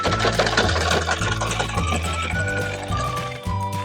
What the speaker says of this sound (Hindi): और यहाँ हम सिलाई भी लगाएंगे।